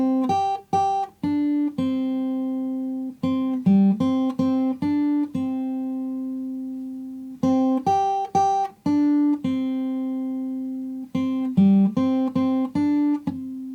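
Fingerstyle guitar in standard tuning plays the opening line of a song freely and a little out of strict time: short phrases of clear plucked notes with ringing sustain, separated by brief pauses, with no talking.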